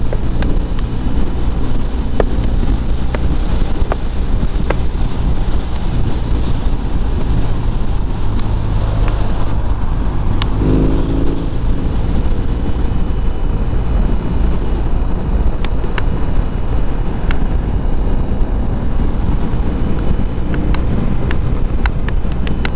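Riding a BMW R18 motorcycle, with steady loud wind buffeting the microphone over a low engine rumble throughout, continuous and unbroken.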